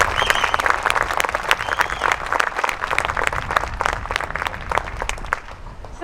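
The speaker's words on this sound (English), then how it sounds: "can we just give these students a round of applause for enduring all of that?" An audience applauds a student sixth-grade choir, with dense, steady clapping filling the whole stretch and a few voices faintly mixed into the crowd.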